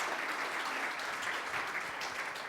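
Audience members at a Wakanda developer conference Q&A clap in a short, steady, moderately loud round of applause that fills the whole moment without talk.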